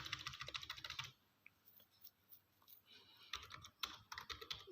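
Keys clatter on a computer keyboard in quick bursts of typing, with a pause in the middle, quiet and close with no speech.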